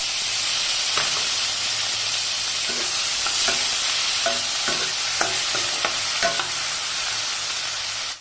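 Chopped tomatoes and onions fry in butter in a kadai, giving a loud continuous sizzle with intermittent stirring taps and scrapes close by, no talking.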